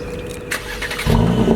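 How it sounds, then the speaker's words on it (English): A Mercedes-AMG C43 engine starts up close by: a short whirring crank, then the motor catches and settles into a loud, steady idle. "Should I fire it up? Yeah. Go on, let's give it a start."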